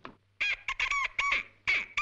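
A man imitates a duck call with his voice, giving four nasal quacking honks in a quick uneven series, loud and close, with no talking between them.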